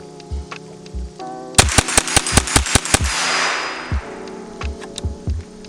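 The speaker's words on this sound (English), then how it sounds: "we gotta do a mag dump" A Henry AR-7 US survival rifle fires a rapid string of about eight close, sharp shots in quick succession, each crack trailing into a ringing echo, with no talking over the burst.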